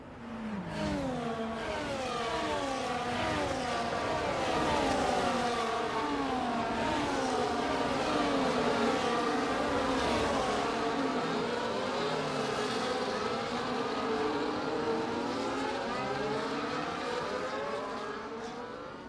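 Multiple race cars in a sim racing game at Abu Dhabi weave under the safety car, their engines droning and revving continuously in overlapping rising and falling tones, steady and fairly loud throughout.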